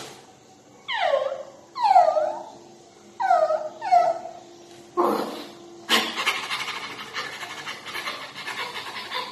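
A human voice mimics a dog in short panting, whimpering bursts, four quick rising yelps followed by a sharper bark and a stretch of rapid breathy panting, close and fairly loud with no other sound.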